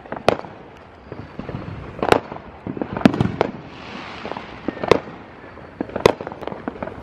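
Independence Day fireworks pop and crack outdoors in a scattered series of sharp bangs, some close and loud, others fainter, with irregular gaps between bursts.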